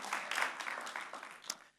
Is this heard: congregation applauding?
yes